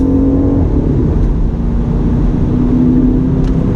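A 2019 BMW M5 Competition sedan's engine drones loud and steady after a downshift to fourth gear, a close, constant low growl heard from inside the car with no talk over it.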